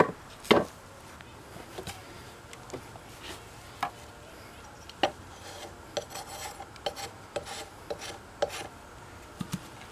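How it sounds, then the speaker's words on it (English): A chainsaw raker file rasps against the edge of an old auger, with short scraping strokes that come in uneven bursts, close and moderately loud, and no voices. "And a chainsaw raker file works really well."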